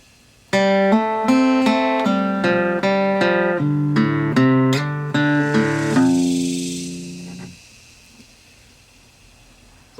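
A guitar riff in drop D tuning with a muddy tone, played as a run of picked notes and a brief hammer-on, loud and close, ending on a held note that rings out and fades.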